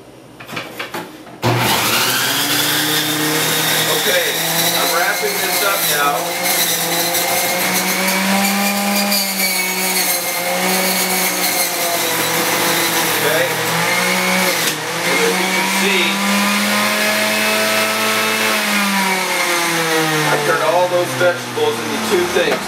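A food processor or juicer runs at high speed, loud and continuous with a whining motor tone, as it juices vegetables for raw dog food. It starts abruptly after a brief quiet moment and drones on steadily.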